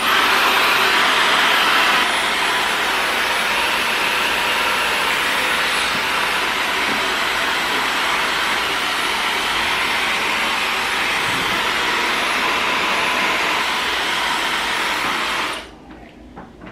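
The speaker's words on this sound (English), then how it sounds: "I do start diffusing my roots first, just so you know those are set." A hair dryer fitted with a diffuser, running on low heat and low speed, blows a loud, steady, close airy whoosh that holds unchanged for about fifteen seconds before cutting off abruptly.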